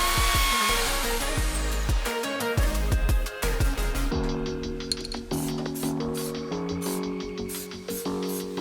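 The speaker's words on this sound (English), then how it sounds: "I then cleaned back the metal using a wire wheel and a drill" A drill spinning a wire wheel against steel on a Mini subframe to clean it back, a loud continuous whirring grind with pitch shifting as pressure changes, running without pause.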